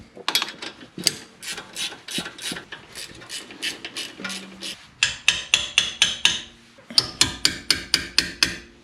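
A wrench ratchets quickly while torquing a car's wheel lug nuts to 90 foot-pounds after a brake pad job, a series of sharp metallic clicks in rhythmic bursts, close and loud.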